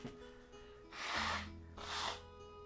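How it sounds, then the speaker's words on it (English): A person blows their nose in two forceful, breathy bursts, each about half a second long, close and fairly loud against quiet background hum. "Hang on, I'm gonna blow my nose."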